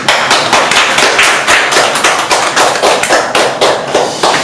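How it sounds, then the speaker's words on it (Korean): Audience applause at a Korean memorial poetry and calligraphy exhibition, a steady run of dense hand clapping with rhythmic taps, close and loud throughout with no talk over it. "자리를 마련해 주셔서 김희정 씨께 우선 고맙다는 박수에 한번 드리겠습니다."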